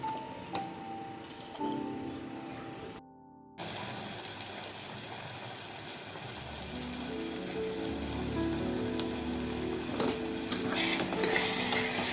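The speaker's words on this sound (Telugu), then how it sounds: "దీన్ని పొయ్యి మీద పెట్టేసుకొని ఇది కరిగి ఈ బెల్లంతో ఈ పప్పు ఉడకాలన్నమాట" Lentils cooking with jaggery melting in a pan on a stove, a steady close bubbling and sizzling with faint stirring scrapes that build slightly over about twelve seconds, no talk.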